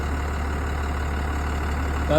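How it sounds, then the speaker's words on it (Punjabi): A 6-cylinder, 180 hp turbocharged 4x4 tractor with an AC cab idles nearby, a steady low rumbling drone that holds even throughout while someone talks over it. "180 ਹਾਰਸ ਪਾਵਰ ਤੇ 6 ਸਿਲੰਡਰ ਇੰਜਨ ਵਿਦ ਟਰਬੋ"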